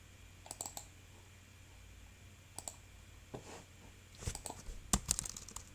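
Typing on a computer keyboard, sparse scattered clicks in short clusters over a quiet hum, close and faint, growing busier toward the end.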